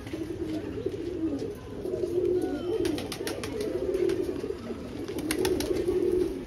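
Pigeons coo in a steady, overlapping chorus that stays close and fairly loud throughout. The birds are Madras pigeons kept at a home loft. Brief sharper chirps and rustles sound above the coos.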